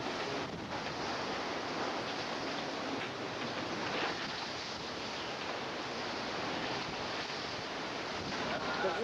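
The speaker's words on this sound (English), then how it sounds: "The wind is blowing this way." Hurricane Wilma winds in October 2005 roar as a steady, loud broadband rush that holds for several seconds without a break, with no clear talk over it.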